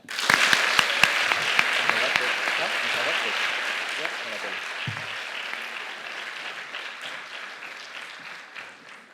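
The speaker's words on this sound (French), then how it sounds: "Merci d'applaudir chaleureusement Arnaud Péricard." Audience applause welcoming a guest onto the stage at the final of a student eloquence contest in a hall, sustained dense clapping that starts loud with a few sharp claps and slowly fades over about nine seconds.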